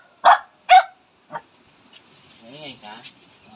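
A dog gives two loud, close barks and a softer third, followed by quieter whining or murmuring sounds at a distance.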